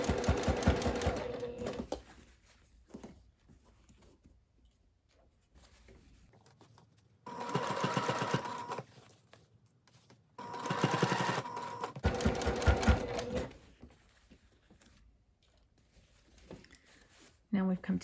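A sewing machine stitches along a bodice edge at a 3 stitch length, with several loud, close bursts of rapid stitching and a person talking in the quieter stretches between them.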